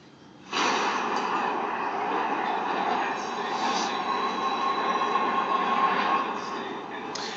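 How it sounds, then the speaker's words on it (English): A train rides along its rails in a film scene, a steady loud rumble with faint wheel squeal that holds for about seven seconds after a sudden start. "Now this train that she's riding on"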